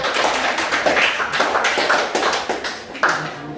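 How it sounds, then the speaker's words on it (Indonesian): A class of students claps together during a Christian religion lesson, a steady burst of close, fairly loud hand claps that runs throughout with no talking. "kita berikan tepuk tangan dulu"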